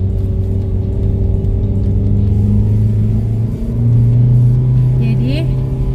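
A car engine drones steadily as it climbs a steep, sharply winding uphill road, a loud low hum that lifts briefly in pitch as the driver works through the bend, with a voice speaking over it.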